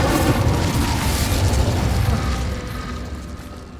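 Incendio fire spell in Hogwarts Legacy, a loud, roaring whoosh of flame with crackling bursts, steady and close before slowly fading.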